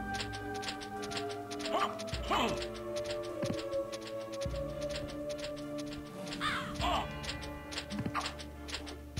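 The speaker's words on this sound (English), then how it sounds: "Okay, I hate crows." Harsh crow caws repeat in Castlevania: Symphony of the Night, several distinct calls standing out over a steady game soundtrack with a ticking rhythm, while someone talks over the action.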